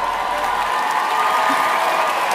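Audience applause fills the room, a steady wash of many hands clapping loud and continuous throughout, with faint crowd noise underneath.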